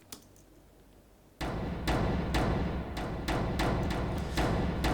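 An unprocessed Trailer FX1 cinematic sound effect in Logic Pro X sets up a dense, noisy wash after a quiet start, punctuated by a steady series of sharp, loud hits, with no talking.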